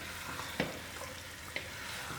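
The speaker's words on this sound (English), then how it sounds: "I'm giving this meat a good stir." Lamb meat coated in masala being stirred in a pot, a soft sizzle underneath with two distinct scraping clinks of the spoon against the pot, fairly quiet and close.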